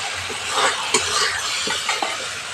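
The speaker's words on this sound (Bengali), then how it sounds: "হালকা আঁচে মশলাটা খুব ভালো করে কষিয়ে নিয়েছি" Ginger and spices stirred and frying in oil in a pan, a steady soft sizzle under light scraping and a few clinks of a utensil against the pan.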